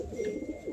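Andhra fulsira pigeons coo softly at close range, a brief low murmuring call against faint background noise.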